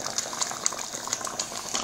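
A pot of curry chicken with coconut milk, thyme and garlic bubbling on the stove, giving a steady low simmer with small regular pops, close and fairly quiet.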